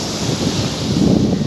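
Sea waves wash steadily onto the beach at Akçakoca, a loud continuous surf roar with wind buffeting the microphone and no voices.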